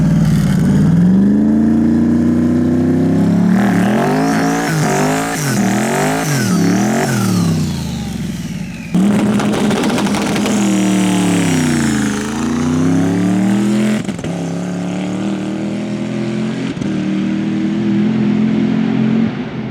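A twin-turbo Ford Crown Victoria launches hard in a no-prep drag race run, its engine revving loud and close, climbing through gears with repeated rising sweeps, a brief break, then another long pull that fades out.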